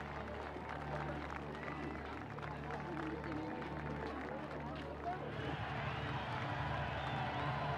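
Crowds cheer and clap in greeting for de Gaulle's arrival in Conakry, French Guinea, a steady dense roar of voices and applause throughout, swelling slightly toward the end, with faint talk mixed in.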